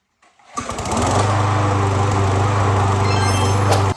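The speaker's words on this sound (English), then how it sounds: "So there we go, the mower's running again." A lawn mower engine, freshly running after a carburetor cleaning, starts up and settles into a steady, loud, close drone that holds evenly to the end with no sputtering.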